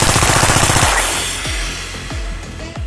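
Full-auto gunfire from a rifle fitted with an absurdly long 22.86 m suppressor: a rapid loud burst of shots, then several slower separate booming reports, each with a deep thud and ringing tail.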